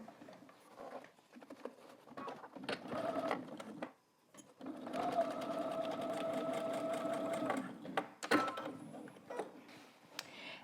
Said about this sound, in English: you can stitch over your existing stitching lines just to secure that in place